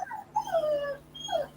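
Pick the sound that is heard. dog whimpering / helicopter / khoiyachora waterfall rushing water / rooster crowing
dog whimpering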